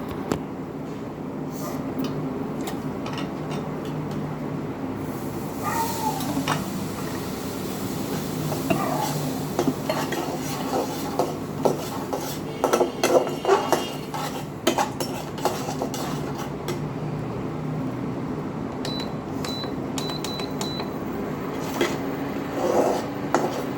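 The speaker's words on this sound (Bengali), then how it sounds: "এবার ম্যাগির মশলাটা দিয়ে দিয়েছি এর মধ্যে, দিয়ে একটুখানি নাড়াচাড়া করে নিয়েই" Maggi noodles with masala are stirred in a pan, giving soft, steady scraping and rubbing with occasional clinks of utensil on metal, continuing at a low, even level with no talking.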